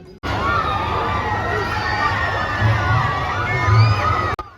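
A dense crowd by the fair rides at Poopoli 2025 in Wayanad shouts and cheers, with children's shrieks rising in waves over a steady roar of voices, loud and continuous until it cuts off abruptly.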